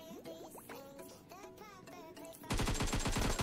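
Automatic gunfire from AKM and M16A4 rifles in the mobile battle royale game PUBG Mobile: scattered sounds first, then a loud, dense burst of rapid shots erupts and runs to the end.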